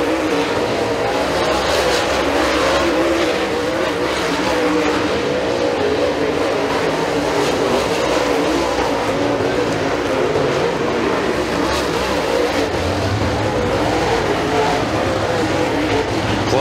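Super late model race cars roar down off a turn on an oval track at a night feature event, a loud continuous blur of engine noise with no talking over it.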